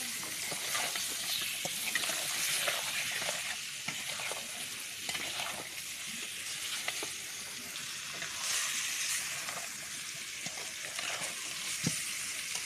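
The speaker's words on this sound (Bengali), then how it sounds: "বেশ কিছুক্ষণ একটু আমি ভাজা ভাজা করে কষিয়ে নিয়েছি" Chicken pieces fry in a pan with pumpkin and potato, producing a constant close sizzle under repeated scraping stirs, steady in loudness across the whole stretch.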